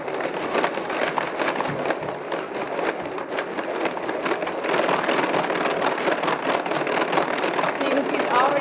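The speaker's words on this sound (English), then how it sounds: "You just make sure it's in gear 1 and then mix" A Tupperware Whip N Mix hand mixer whips steadily in gear 1, giving a continuous churning, whirring drone with a faint rhythmic pulse, loud and close throughout.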